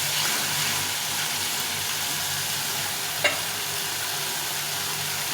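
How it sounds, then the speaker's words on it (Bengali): Spiced masala and fish sauté in a pan, a loud dense steady sizzle close by, with one brief click partway through. "একটু মশলা ধোয়া জল দিয়ে কষিয়ে নেব।"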